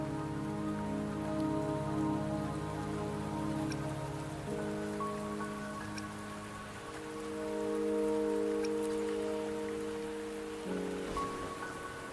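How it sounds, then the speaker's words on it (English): Steady rain falls in the video game Wuthering Waves, a continuous soft patter on surfaces beneath layered sustained tones of background music, with no talking. "Don't worry, the rain won't last much longer."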